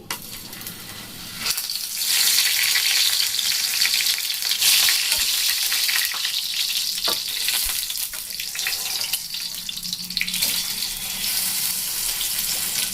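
Hot oil sizzles and crackles steadily as food fries in a pan for mughlai paratha with egg and onion, a loud continuous hiss that swells briefly, with no talking.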